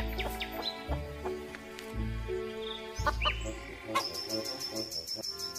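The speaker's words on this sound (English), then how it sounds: "H for hen." Hen clucking in a children's alphabet lesson: a series of short, fairly close clucks and calls with a brief higher chirping burst near the end, heard alone without talk.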